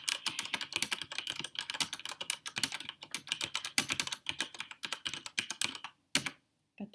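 Rapid, uneven clicking of keys on a mechanical keyboard, close and crisp, with short bursts and brief pauses before the typing stops near the end.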